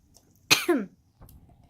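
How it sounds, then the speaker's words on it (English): A single sharp cough close to the mic, followed by a faint throaty sound a moment later. "making me cough all the fucking time"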